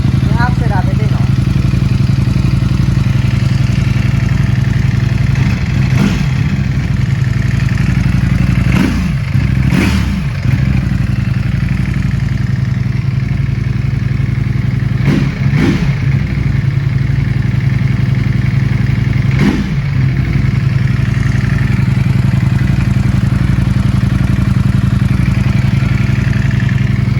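Close and loud, a Ducati Panigale V4 S idles with a deep exhaust rumble broken by several sharp throttle blips that rise and fall quickly. People talk over the engine.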